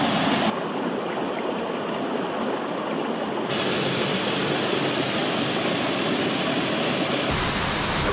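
A river waterfall on the Donegal coast plunges toward the sea, making a steady, dense roar of rushing water that stays constant and fairly close with no voices.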